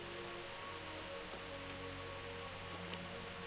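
Steady rain falls on a river in the medieval game Kingdom Come: Deliverance, a dense, even hiss of drops hitting water that runs without a break for the whole stretch, with no voices.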